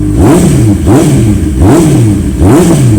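A 2017 Honda CB650F motorcycle engine revs hard four times in a steady rhythm, each throttle blip climbing and falling back. The sound is close, loud and alone, with no talking.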